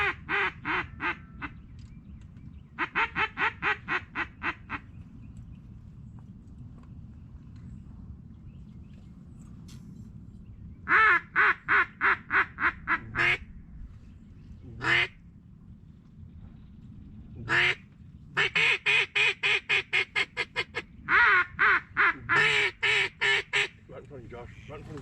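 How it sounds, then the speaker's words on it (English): Loud, close bursts of rapid quacking from a mallard drake at a North Carolina inland-zone waterfowl hunt, coming in several series of fast calls separated by quiet gaps. "we were able to convince a mallard drake to come in"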